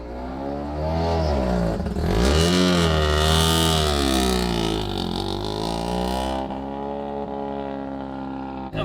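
A rotary-engine car warming up, its engine revving loudly and steadily in a rising and falling drone with a sharp swell near the start, then settling back toward a smoother idle.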